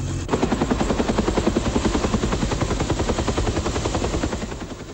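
A military helicopter, the general's personal craft Dynamite 6, lifts off in wartime Vietnam near An Loc, its rotor beating in a fast, loud, close rhythmic thump over a heavy engine roar that eases slightly toward the end.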